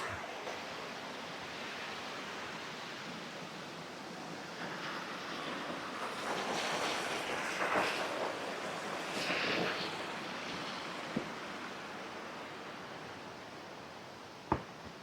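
Glenashdale Falls on the Isle of Arran, Scotland, cascading some distance away: a continuous broad rushing roar that swells slightly midway, mixed with wind buffeting and a few soft knocks near the end.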